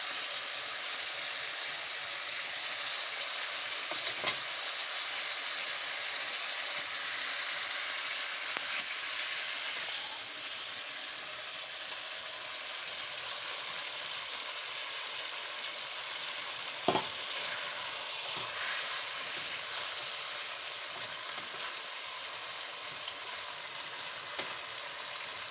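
Pangas fish frying in a pan, a steady broad sizzle with a few sharp crackles and pops, close and continuous with no talking.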